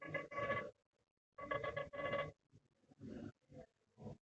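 A telephone rings in bursts in the middle of a maths lesson on matrices, several loud repeated trills separated by short pauses, with no talking over it.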